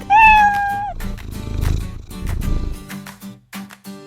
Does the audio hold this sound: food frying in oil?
no